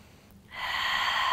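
After a short quiet moment, a single deep breath during a yoga session swells in close and soft, then carries on steadily.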